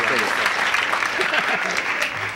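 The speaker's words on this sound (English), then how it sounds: "I think that deserves a little applause" Studio audience at a television talk show breaking into applause, loud and close, a thick continuous roar of clapping that tapers slightly at the end, with a voice faintly underneath.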